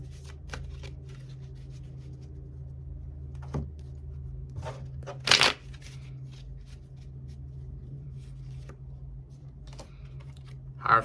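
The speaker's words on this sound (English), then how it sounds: "I'm shuffling up the cards on camera." Quiet tarot cards being shuffled by hand, soft scattered riffling and tapping clicks with a couple of sharper snaps, set against a faint steady background hum.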